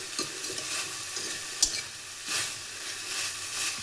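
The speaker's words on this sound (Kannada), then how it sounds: "ಸೊ ಇನ್ನೊಂದು ಸ್ವಲ್ಪ ಫ್ರೈ ಮಾಡ್ಕೊಳ್ಳುವ" Cluster bean curry frying in hot oil, a steady close sizzle with stirring scrapes and one sharp clink partway through, no voices.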